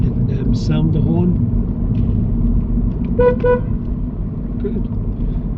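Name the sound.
car horn sounded during driving test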